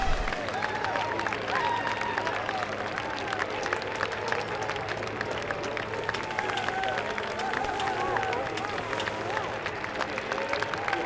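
Crowd applause and clapping from the F1 Career Challenge video game, set at the 1999 Canadian Grand Prix, form a dense, continuous patter of many hands that holds steady for the whole stretch, with faint crowd babble beneath it.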